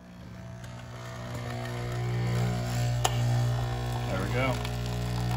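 A Nespresso coffee machine's pump running after an air lock was cleared, a steady loud electric hum and buzzing drone that builds slightly in intensity, with a faint click midway and some background noise.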